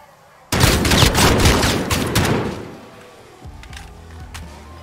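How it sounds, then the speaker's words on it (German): A sudden loud burst of rapid gunfire in Call of Duty Warzone's Gulag, a dense volley lasting about two seconds before trailing off into quieter game sounds. "Und noch ein Schuss."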